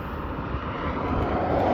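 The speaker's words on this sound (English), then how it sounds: "I think I should be able to fly under this bridge with the drone." A drone flies near a highway bridge on a new coastal motorway leg, its steady engine-like drone filling the air continuously and growing slightly louder toward the end, with no voices.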